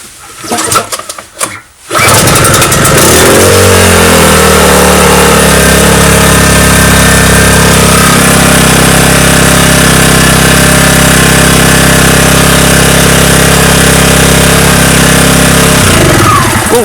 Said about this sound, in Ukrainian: І зараз спробуємо завести його на зиму.